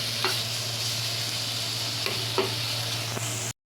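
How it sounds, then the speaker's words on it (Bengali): Chicken pieces fry in a pan with a continuous close sizzle, and a few scraping strokes of stirring cut through near the start and middle before the sound stops abruptly at the end. "মাংসটাকে ভালো করে ভেজে নিচ্ছি"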